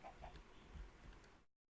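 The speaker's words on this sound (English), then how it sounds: "There's a few chickens around." Chickens in the video game Age of Engineering, a few soft, close clucks in quick succession over a brief low rumble before cutting to silence.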